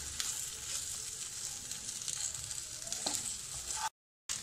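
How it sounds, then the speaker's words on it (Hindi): Arbi (taro root) fries gently in masala in a pan, a soft steady sizzle with a light stirring scrape, then a sudden brief silence just before the end. "अब सारे अरबी को अच्छे से फ्राई कर लेंगे।"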